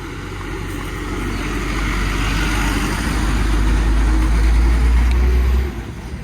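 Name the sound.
bus passing by on the road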